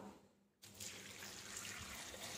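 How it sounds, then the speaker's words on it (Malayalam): Water is poured into a pan for a spicy jackfruit stir-fry (chakka thoran). After a brief quiet start, a steady, fairly loud splashing pour begins and runs continuously to the end. "ഇനി ഇതിലേക്ക് ആവശ്യത്തിന് വെള്ളം ഒഴിച്ച് കൊടുക്കാം."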